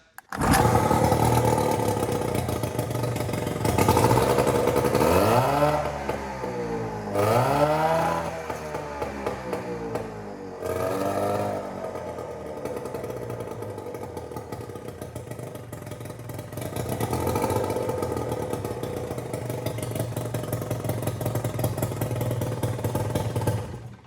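A repaired gasoline motor cranks and catches, then idles roughly and is revved up and down several times in rising and falling sweeps, loud and close with no talk.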